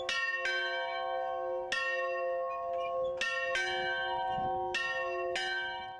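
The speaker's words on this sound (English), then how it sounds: "This is the sound of the smallest bell in Rome." The smallest and oldest church bell in Rome, housed in the 800-year-old Church of San Benedetto in Piscinula, rings in repeated bright strikes about every second and a half, each leaving a long shimmering resonance.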